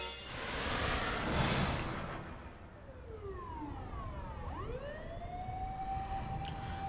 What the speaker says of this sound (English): Achi could hear ambulance and police sirens wailing on the main road